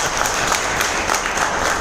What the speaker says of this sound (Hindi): योगेश ठक्कर सर जोरदार क्या हो जाए तालियां।